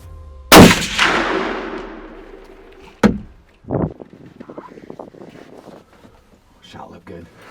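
A muzzleloader rifle fires once during a deer hunt, a loud sharp outdoor blast with a long rolling echo, followed by quieter thumps and hushed talk nearby.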